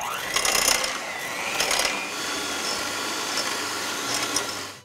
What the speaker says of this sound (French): On va combiner sucre et beurre jusqu'à ce qu'on ait un mélange un peu fluffy.